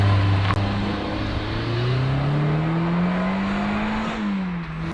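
A Renault 19 16S drives up a mountain road, its non-turbo engine droning steadily up through the revs in a long pull, then easing off slightly near the end.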